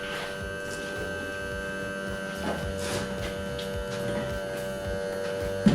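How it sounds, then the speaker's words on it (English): An electric motor on an abandoned Porsche 924 Turbo, switched on for vacuum leak testing, hums steadily at close range with a constant buzzing drone throughout and no talk. "So apparently the motor starts spinning immediately."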